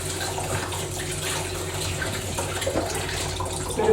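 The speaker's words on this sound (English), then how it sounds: "Bit of a rinse" Water runs steadily into a sink for a rinse, a constant close splashing wash that holds level throughout and swells slightly at the very end, with no talking.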